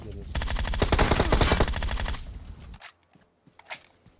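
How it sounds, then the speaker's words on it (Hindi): Rapid automatic machine gun fire in the PUBG battle game rattles loudly for about two and a half seconds, then cuts off, leaving a few faint clicks and knocks. "मैं भी गोली चलाए जा रहा हूं"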